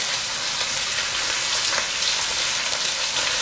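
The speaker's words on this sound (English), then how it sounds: "We're going to use a large pot and pour in 1/4 cup of oil. We're going to brown the meat on all sides." A beef pot roast browns in a quarter cup of oil in a large pot, producing a loud, steady hiss and sizzle of frying meat that carries unbroken and close throughout, with no voices.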